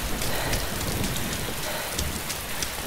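Heavy rain pours steadily in the video game DayZ, a dense continuous hiss with a deep rumbling thunder undertone, loud and without talk.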